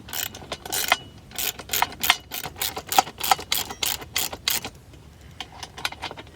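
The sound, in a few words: socket wrench tightening lock nuts on running boards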